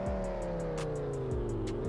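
A car engine revs in the video game Roblox Driving Empire, a steady loud droning whine with rising and falling pitch and rhythmic pulses, heard alone.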